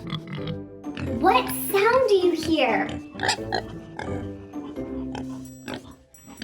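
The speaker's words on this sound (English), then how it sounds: "Yes, it's a pig." A pig oinks in a toddler's farm-animal learning show, with several short grunting calls mixed among a woman's speech.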